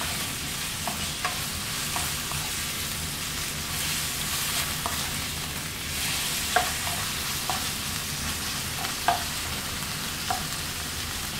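Chicken pieces and sausages fry in a pan for white sauce pasta, a constant loud sizzle with occasional spatula scrapes and taps against the pan throughout.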